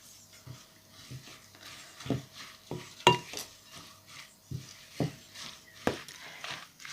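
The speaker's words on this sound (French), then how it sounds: "maintenant, on va ajouter nos fans de carottes. Hop. On va bien mélanger." Carrot tops being mixed into buckwheat batter in a bowl: irregular, fairly close taps and clinks of a utensil against the bowl, roughly one every half second to second, over a quiet background with no talking.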